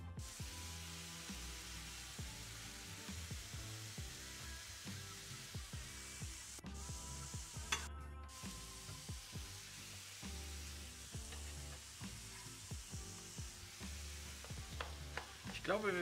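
Onions and garlic fry in a pan alongside beans for a low-carb lasagne, giving a quiet, steady sizzle broken by repeated scraping and stirring clatters close by.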